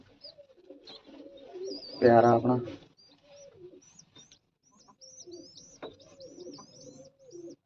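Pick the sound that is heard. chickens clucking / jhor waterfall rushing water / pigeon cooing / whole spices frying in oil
pigeon cooing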